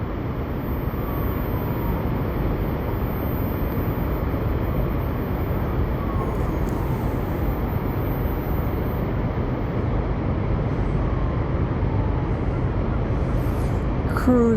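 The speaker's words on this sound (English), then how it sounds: "I hear the train approaching my location." A steady, broad rumble of a train rolling past, recorded from an FPV drone, continuous and fairly loud throughout with no voices.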